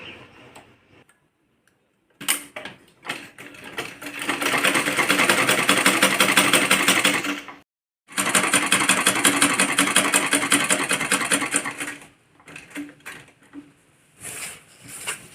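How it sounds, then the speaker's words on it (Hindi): A sewing machine stitching around the edge of a kurti, running in two long loud bursts of rapid even ticking separated by a brief pause, with shorter starts at the beginning and end and no talk. "अब इसके चारों तरफ स्टिचिंग करेंगे"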